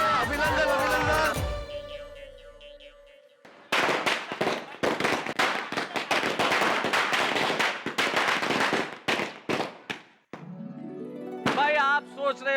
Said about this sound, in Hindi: क्या हो गया है मेहता साहब को, बिना दिवाली के पटाखे क्यों छोड़ रहे?